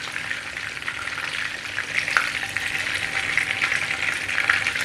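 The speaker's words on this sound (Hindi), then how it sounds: "इन्हें स्लो फ्लेम पर फ्राई करते हमें 6 से 7 मिनट लगे हैं।" Chicken kandi frying on a low flame, a steady bright sizzle and crackle of oil that holds even throughout, with occasional sharper pops and no voices.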